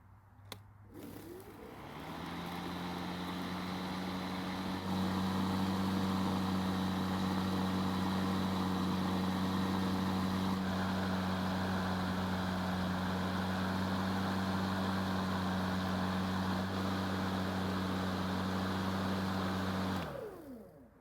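An EGO battery-powered lawn mower, just washed with a low-pressure sprayer, starts with a click and spins up into a steady electric hum with a strong low tone, running evenly until it shuts off at the end.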